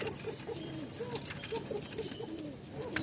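A Rajshahi Giribaz pigeon cooing in repeated soft, throaty calls, close by, with rustling and fluttering movement around it.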